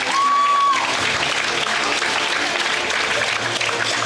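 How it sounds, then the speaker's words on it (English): A crowd applauds at a company success meet as a colleague walks up, steady full clapping throughout with a brief tone at the start and some voices mixed in. "A big round of applause"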